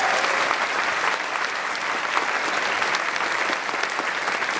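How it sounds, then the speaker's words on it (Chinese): Sustained dense applause from a conference audience at a closing ceremony, loud and even throughout, with no talking. "那给他一点掌声吧。"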